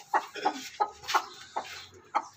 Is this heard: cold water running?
no